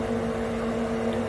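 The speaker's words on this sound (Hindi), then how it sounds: "तो जो ड्रम है वो काफी तेजी से घूम रहा है," A Motorola front-load washing machine's drum spins at high speed, giving a steady, loud whirring hum with a constant low tone and broadband rush, unbroken throughout.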